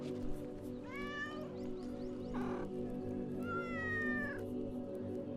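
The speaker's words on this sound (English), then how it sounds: "Meow meow." A cat in the kampung-style horror video game meows twice with a few seconds between the cries. The meows are clear and close over a low, steady background hum.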